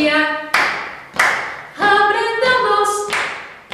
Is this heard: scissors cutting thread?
no